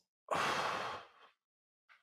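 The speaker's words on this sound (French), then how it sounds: "Une respiration, attends." A single deep breath drawn and sighed out during a counted pause in a guided breathing exercise, close and loud for about a second, trailing off, then a brief faint sound after silence.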